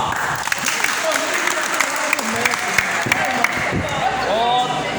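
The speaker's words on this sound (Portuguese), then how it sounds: "Uma salva de palmas!" Dense audience applause during a Bible study gathering, with hands clapping steadily and a few sharper claps standing out, while voices chatter underneath.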